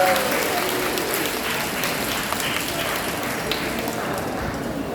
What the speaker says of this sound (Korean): 우리 전광훈 목사님 건강하시라고 박수 한번 해주시기 바랍니다.